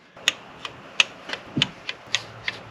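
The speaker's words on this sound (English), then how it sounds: "Now I will use my torque wrench to torque all of them" A torque wrench tightens the water pump bolts on a BMW X5 4.8i (E70, N62 V8), giving a close series of about eight sharp metallic clicks at slightly uneven intervals over a quiet background.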